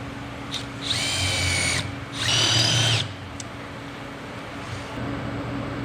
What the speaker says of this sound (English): we're gonna go ahead and use that and drill this pin out